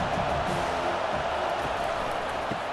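Stadium crowd roaring in EA Sports College Football 25 during a Notre Dame vs USC game, a steady dense wash of cheering voices that stays loud and even throughout with no clear breaks.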